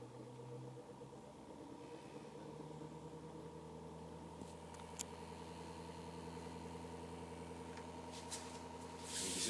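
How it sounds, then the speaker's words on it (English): A reworked SSG motor runs with a generator coil under test, giving a steady, faint mechanical hum with layered tonal drones and a slight rise in hiss near the end, with no talking. "And now you hear the engine running faster."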